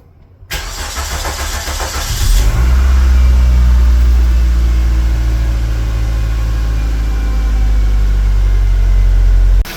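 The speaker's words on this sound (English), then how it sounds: "I'm going to start the car." A Ford Laser KQ 1.8 engine cranks for about two seconds with the starter whirring, then catches and settles into a loud, steady idle that runs on to the end.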